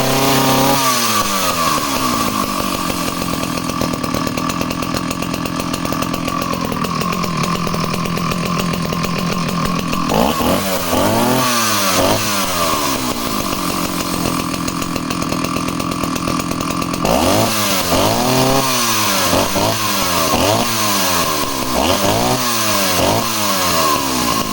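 A Partner S50 or Echo CS4500 project chainsaw, a petrol saw, idles loudly and is revved up and down several times in sharp bursts, close to the listener, with no talking.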